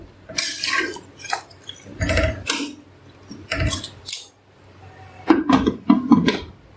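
A spoon scrapes and clinks against a metal pressure cooker while mixing mutton pulao ingredients, in several quick bursts with short pauses between strokes.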